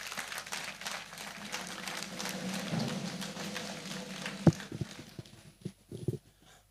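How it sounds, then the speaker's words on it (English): Applause at the national launch of a conflict early warning situation room in Nigeria, a soft, fairly distant patter of clapping from an audience that thins out toward the end, with a couple of louder bumps near the microphone. "May we give him another round of applause,"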